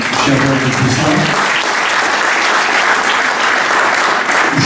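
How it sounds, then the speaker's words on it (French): Warm, sustained applause from a conference audience in Créteil, a dense steady wash of clapping that fills the room, with a few voices underneath at the start. "On vous applaudit chaleureusement, cher Georges."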